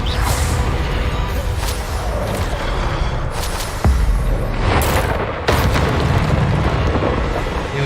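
Spell cast in the video game Hogwarts Legacy, a dense booming burst with whooshing magical energy, sharp impacts and swells over continuous loud game sound, no talking.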